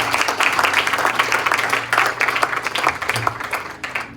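A church congregation at a Sunday service applauds together, a loud, dense burst of clapping that holds steady and thins slightly toward the end.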